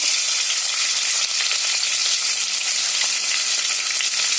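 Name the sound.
onions frying in hot oil with whole spices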